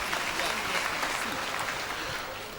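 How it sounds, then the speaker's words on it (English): A church congregation breaks into a dense, even round of applause, a broad wash of many hands holding steady and tapering slightly at the end. "Give him a round of applause."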